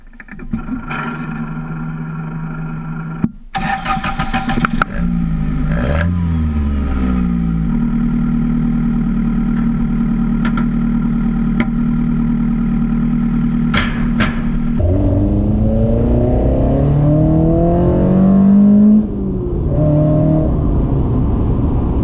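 A Toyota AE86's four-cylinder 4A-GE engine cranks and catches, then idles before being revved hard several times, the rising and falling whine loud and close.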